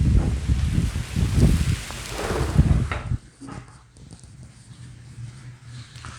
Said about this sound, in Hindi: पूरा तेज़ बारिश हो रहा है, पूरा तेज़ हवा भी चल रहा है जिसके कारण पूरा आवाज़ आने लगा था